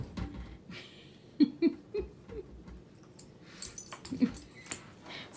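A dog makes faint, short whimpering squeaks and whines, several brief high cries scattered over a quiet kitchen background.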